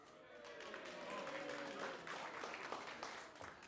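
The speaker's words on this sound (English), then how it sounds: "come big cheer for them" A crowd at a Skipton showcase event applauds and cheers, a few seconds of dense clapping with voices rising over it.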